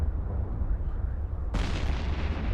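Tornado ships firing in EVE Online, a constant low rumbling barrage that swells into a sudden brighter, louder blast of fire about halfway through and keeps roaring.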